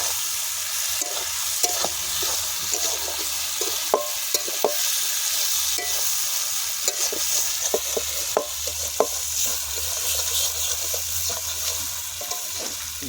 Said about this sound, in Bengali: মাংস একদম খুব সুন্দর কষানো হয়ে গেছে গলেও গেছে